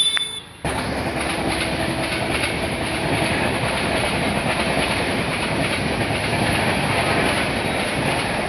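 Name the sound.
train passing on railway tracks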